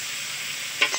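Chicken frying in a pan gives a steady sizzle throughout, with a brief sharper burst of crackle near the end.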